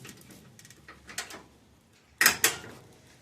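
A 1975 VW Super Beetle door is handled with a few light clicks and rattles, then shut with two sharp, loud thunks close by.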